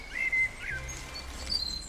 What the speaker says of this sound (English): birds are deafening